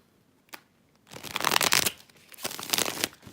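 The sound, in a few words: tarot cards being shuffled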